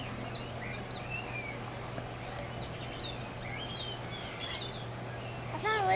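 Faint bird chirps and short calls at the Dallas zoo rise over a steady low hum, with a brief louder call near the end.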